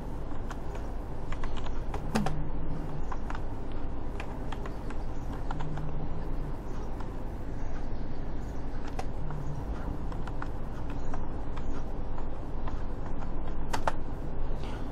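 Rapid, steady keystrokes on a computer keyboard, close and continuous, with occasional sharper clicks over a low background hum.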